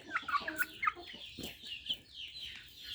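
Young roosters and chickens cluck in a series of close, bright, uneven calls, with brief chirps scattered through a few seconds and no talking.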